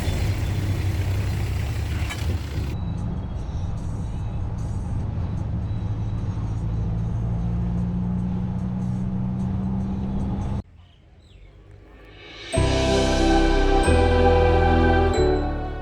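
A tuk-tuk rides through traffic in Ayutthaya, with a steady rumbling engine and road noise for most of the ride, a short quieter lull, then a louder burst of passing traffic with bright tinkling and ringing tones near the end.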